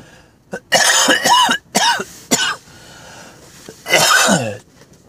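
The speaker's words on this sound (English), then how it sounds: "I've got a little cough here" Several loud, close coughs in irregular bursts, with short pauses between them and one final, longer hacking fit.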